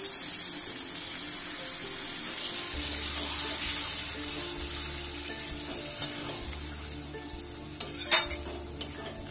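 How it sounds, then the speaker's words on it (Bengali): Water pours into a pan of sizzling fried spice masala for a Bengali mutton liver and potato curry, with a steady hiss and some stirring. No one speaks, and a brief louder splash comes near the end. "মশলাটা ভালো করে কষে গেছে, এবার দিয়ে দেব সামান্য পরিমাণ জল।"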